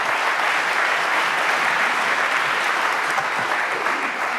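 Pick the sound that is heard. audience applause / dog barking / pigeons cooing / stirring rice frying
audience applause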